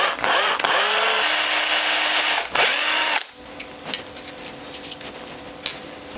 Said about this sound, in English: I have to like open it up a little bit with a drill bit.